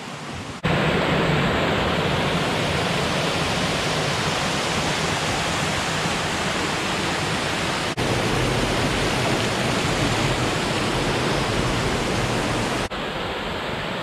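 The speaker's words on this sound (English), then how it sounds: "We are headed to another waterfall" A waterfall on the Ricketts Glen Falls trail gives a loud, continuous broadband rush of falling water close at hand, steady throughout with brief cuts between segments.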